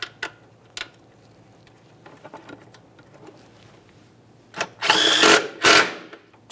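A power tool snugs a mounting bolt in a car's engine bay with two loud, close buzzing bursts near the end, after scattered quiet clicks and handling taps.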